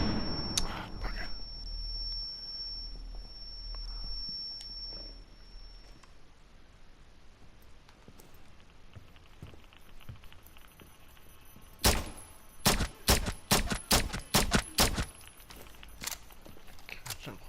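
Rapid bursts of gunfire in the tactical shooter Rainbow Six Siege, coming through walls as about nine sharp cracks in quick succession near the end, after a quiet stretch of soft movement and muffled sounds.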